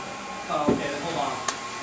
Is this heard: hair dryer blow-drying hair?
yes